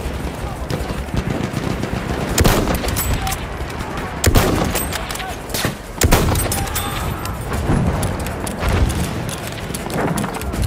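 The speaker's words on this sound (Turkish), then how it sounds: "Düşman makinalı tüfeği görüldü." Enemy machine gun fire in Battlefield 1 on the Suez map, rapid bursts of automatic gunfire crackling near and far amid battlefield noise, with sharp loud shots and voices shouting over the combat.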